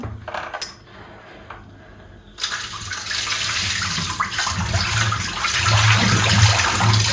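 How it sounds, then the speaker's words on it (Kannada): Water used to rinse spinach is poured out onto the ground outdoors, beginning with a few clinks and then becoming a steady, growing splash and gush that lasts several seconds. "ಸೊ ಇಲ್ಲೇ ಚೆಲ್ತಾ ಇದ್ದೀನಿ ನೀರನ್ನ."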